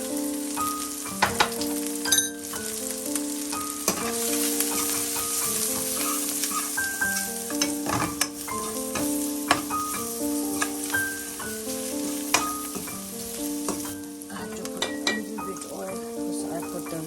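Masala spices frying in hot oil in a pan for an aloo dum fried-potato dish, giving a steady close sizzle with occasional stirring clinks and scrapes.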